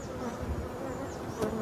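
Forest honey bees buzz steadily around an open hive during a spring super placement, a continuous close drone with a brief louder swell near the end and no talk.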